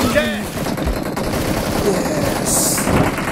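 Rapid automatic gunfire from the mobile game PUBG Mobile rattles loudly and continuously in dense bursts, with a voice briefly audible.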